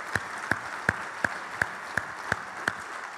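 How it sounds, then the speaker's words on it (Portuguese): A church congregation claps together in a steady rhythm, about eight sharp unison claps evenly spaced over a few seconds, with no speech. "Quem pode aplaudir o nome de Jesus?"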